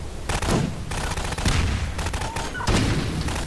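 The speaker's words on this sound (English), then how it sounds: "I love shooting city scanners" Gunfire in the Half-Life 2 co-op campaign as city scanners are shot down: several loud, sharp bursts of shots over a dense, busy game mix.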